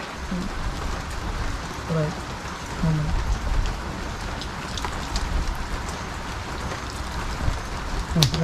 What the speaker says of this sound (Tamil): பயங்கரமாக மழை பெஞ்சிட்டு இருக்குது